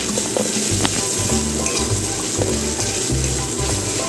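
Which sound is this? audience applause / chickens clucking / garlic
garlic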